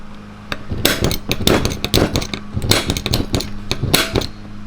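Repeated sharp metallic strikes of a center punch on a steel motor mount gusset for a tube chassis prerunner, irregular and close, ringing over a low hum.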